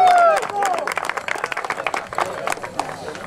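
A crowd applauds the Cuscatleco soccer team at a tournament final awards ceremony, with brisk scattered clapping from many hands under excited voices and a whistle-like tone at the start, fairly close and continuous.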